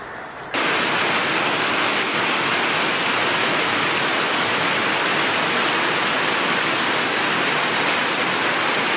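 Heavy hail pours down onto yards, balconies and roads during an Italian hailstorm around Brescia and Verona, a dense, steady roaring hiss that starts abruptly after a brief quieter moment and continues loud and unbroken, with no voices.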